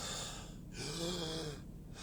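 A man imitates the hard, labored breathing of an asthma attack, with two rasping, wheezy breaths, in and out, close and alone.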